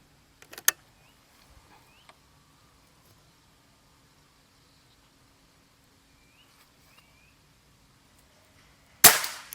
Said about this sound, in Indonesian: Oke, kita mulai tembakan pertama.